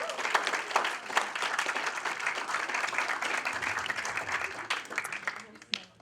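Audience at a church panel on gospel and culture in te Ao Māori breaking into sustained applause, dense and fairly close, with voices mixed in before it tapers off.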